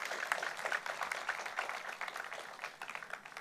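Church congregation applauding the worship team after a morning service, a steady dense wash of clapping throughout, fairly soft and distant-sounding.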